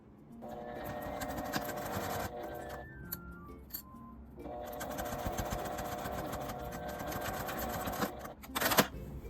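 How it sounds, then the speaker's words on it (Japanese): Sewing machine stitching a square box pouch's fabric layers with a 1 cm seam allowance, steady whirring runs in two long bursts separated by a short pause, close and fairly quiet, with no talking. "他の布を縫わないようにまっすぐになっているか確認して1センチの縫い代で縫います"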